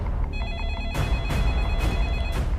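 A telephone rings indoors in a household scene, its steady electronic tone repeating in close, loud bursts over a low background hum.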